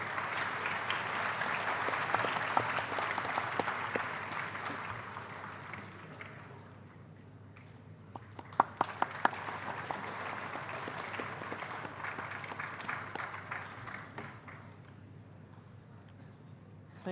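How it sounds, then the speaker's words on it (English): Sustained audience applause at a university freshers induction ceremony, dense broadband clapping from a large hall crowd that dips around the middle and swells again before fading. "Please give a big round of applause."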